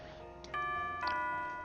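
Doorbell chime in the NekoPara visual novel, two clear ringing tones a half second apart that sustain and slowly fade, with no voices.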